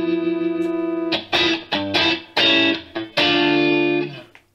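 Electric guitar through a modeler's factory distorted preset played straight into an FRFR speaker, a thin, tinny sound: one held ringing chord followed by a series of choppy, punchy strummed chords, close and alone.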